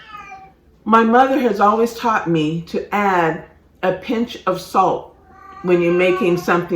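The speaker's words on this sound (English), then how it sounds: "Pardon my cat, she's" A bored pet cat meows in a home kitchen while fruit jerky is being made, the cries mixed in with someone talking close by.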